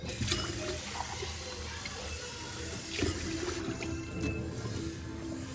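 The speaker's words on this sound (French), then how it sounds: "Je vais ajouter de l'eau." Tap water runs steadily into a container for a fat-free home-cooked dish, a continuous close splashing gush that holds at an even level throughout and covers the whole stretch with no talking.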